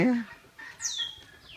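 Chickens at a farm let out a brief cluck and a sharp squawk at moderate distance, with a person's voice briefly heard nearby.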